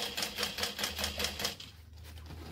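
Home sewing machine with a zipper foot stitching vinyl for a bucket bag: a quick, even run of rapid mechanical stitching pulses that stops partway, leaving a faint hum, with no talking.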